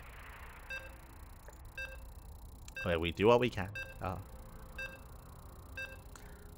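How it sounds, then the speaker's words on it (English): Short repeated electronic beeps from a competitive video game loading into its first match on the Ghost River map, evenly spaced and faint throughout, with a brief stretch of speech in the middle. "As you can hear the beeps, we are loading into Game 1 on Ghost River."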